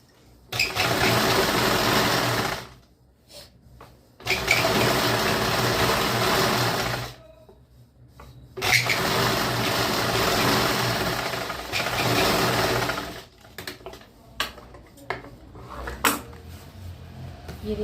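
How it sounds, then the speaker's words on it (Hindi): A sewing machine stitching a semi-Patiala salwar runs in several long, steady bursts of rapid mechanical whirring, separated by short pauses with light clicks and handling noises; it is close, loud and alone, with no talking. "अब हम यहाँ पे ऊपर की तरफ एक स्टिच लगाएंगे।"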